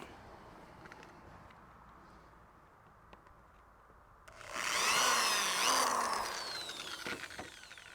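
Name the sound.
power drill drilling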